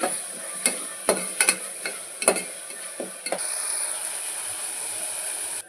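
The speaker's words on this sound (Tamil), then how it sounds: "பட்டாணி சேர்த்து நல்லா வதக்கிக்கலாம்." Peas being sautéed with masala in a pan, close steady sizzling with several sharp scraping stirs early on, then a smooth continuous fry.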